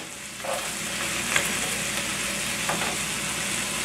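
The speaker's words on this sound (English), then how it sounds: "Now I'm just gonna start flipping some of these pieces of ribeye over." Pieces of ribeye steak and vegetables for a Philly cheesesteak sizzle in a hot pan, a continuous, dense frying hiss with a couple of soft stirring scrapes as pieces get flipped.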